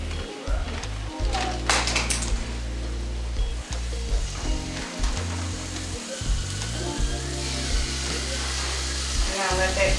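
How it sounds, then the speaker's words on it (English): Cajun-seasoned shrimp frying in a hot pan, giving a steady loud sizzle that runs through the whole stretch with occasional stirring clatter and a voice speaking over it. "So we're gonna get this shrimp in here."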